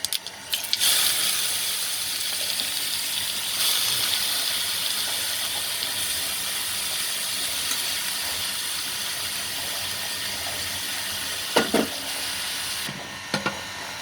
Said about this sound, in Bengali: বাঁধাকপিগুলোকে ভেজে নেব।